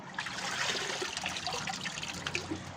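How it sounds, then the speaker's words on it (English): Water drips from a hole in a home vermicomposting bin lined with cartons, heard as a steady wet trickle with small splashes running continuously at moderate level, without voices. "And you can see the hole that we have is already dripping water."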